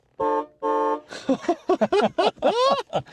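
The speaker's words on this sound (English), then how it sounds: "listen to the horn. You want to give him a honk?" Two loud, sustained honks from an old-style classic car horn sound back to back, followed by someone talking up close.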